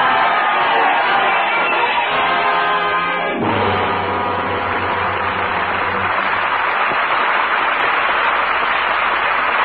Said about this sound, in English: We lower our curtain on the roaring crowds of Paris